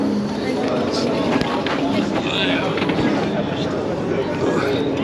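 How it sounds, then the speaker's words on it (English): Steady rumble of a Tokyo subway train at peak hour rolling along with clattering wheels, crowded chatter and voices mixed over the continuous noise. "Welcome to the Japanese subway in peak hour."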